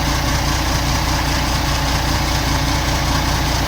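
CAMC CM6D28 430hp truck diesel engine with a knocking fault idling, a continuous loud, rough drone with a steady pulsing beat, heard up close with no talk.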